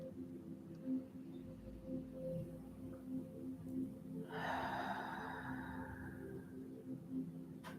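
A single deep breath drawn in during a guided self-love meditation, a soft airy rush that swells and then slowly fades over a couple of seconds, heard alone over a low steady hum.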